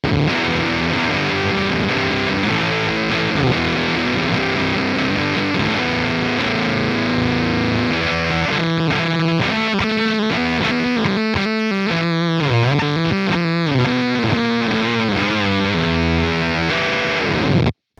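Guitar played through a FruitFX Melon Cube fuzz pedal with the juice knob turned all the way down, giving a loud, sputtering, gated fuzz tone of sustained notes that break into choppy, stuttering bursts midway.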